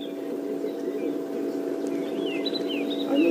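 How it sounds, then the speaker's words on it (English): Several short, thin whistles of a white-browed scrub robin rise and fall over a steady low hum, the song faint and somewhat distant, along a riverbed on a safari drive. "Lovely sounds here from the bird life around here. It's white-browed scrub robin"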